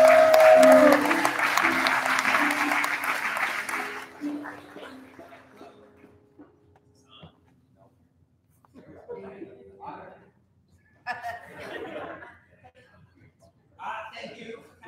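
Audience applause fills an awards ceremony hall, loud and sustained at first, then fading out; someone speaks afterward with scattered laughter from the crowd.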